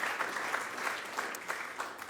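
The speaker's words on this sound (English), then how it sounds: "Can we have a round of applause?" Audience applause at a political anniversary event for the Dodd-Frank financial reform law, a continuous wash of many hands clapping at a moderate, slightly distant level, steady throughout without speech.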